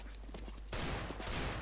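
Gunfire from the video game CS:GO: a dense burst of rapid shots that gets suddenly louder midway and keeps rattling steadily.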